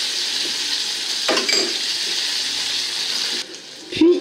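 Potatoes with garlic, cumin and tomato paste fry in a pan as they are stirred, making a loud, continuous close-up sizzle with a couple of brief scraping knocks near the end.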